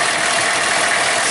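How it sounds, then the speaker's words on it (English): New diesel engine of a white 4x4 truck converted to run on vegetable oil, idling with a steady, even mechanical drone, close and fairly loud, with no talk over it. "This engine is a lot quieter than some of my other engines"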